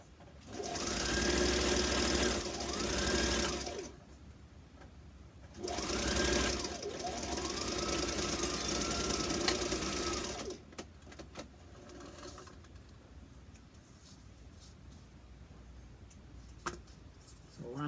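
A sewing machine stitches elastic onto a fabric face mask in two loud, fast-running bursts with a short pause between them, followed by quieter handling noises and faint clicks.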